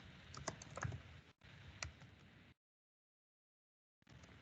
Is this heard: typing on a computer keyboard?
yes